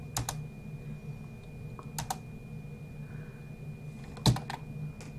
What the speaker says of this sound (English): I'm hitting wrong keys.